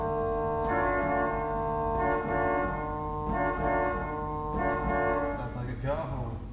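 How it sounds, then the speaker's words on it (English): A J.J. Binns pipe organ sounds its 8 foot oboe reed stop alone, a nasal, buzzy sustained tone moving through a short series of held notes at steady loudness. "the only reed on this organ is the 8 foot oboe"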